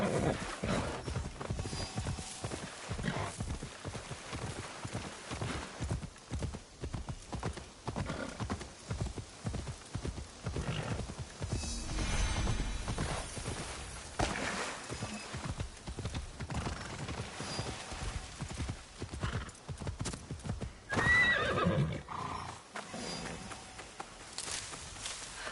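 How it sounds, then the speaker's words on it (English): Horse hooves clip-clop steadily through Assassin's Creed Shadows, with a whinny partway through, all set against busy game ambience and music at moderate loudness. "I really should have used my horse."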